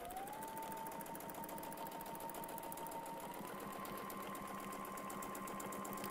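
A sewing machine stitches at a steady pace, giving a quiet, continuous mechanical whir with a fast repeating needle rhythm and no talking over it.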